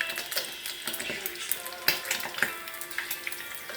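An egg fries in a pan with a close, steady crackling sizzle broken by sharp pops and spits, while a voice talks faintly in the background.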